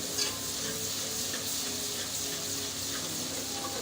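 Food sizzles steadily in a hot pan while chana dal with spinach is fried, giving a continuous bright crackle that stays close and even, with occasional stirring scrapes and no talking.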